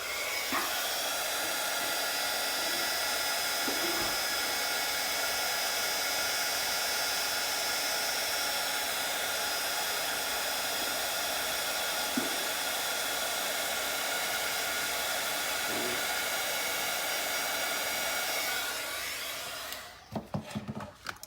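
A handheld heat tool blowing hot air to melt embossing powder, a steady loud whooshing drone running continuously for about twenty seconds before cutting off into a few close clicks and handling knocks.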